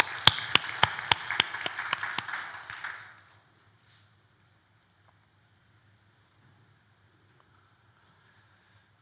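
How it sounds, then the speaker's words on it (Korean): A church congregation claps together in blessing during a Christmas Sunday worship service: a dozen or so loud, rhythmic unison claps over about three seconds, then sudden near-silence for the rest. "축복의 박수 하겠습니다."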